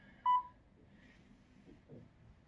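A Mibao D400 IP camera gives a single short, clear electronic beep during setup, followed by quiet room noise and faint distant sounds.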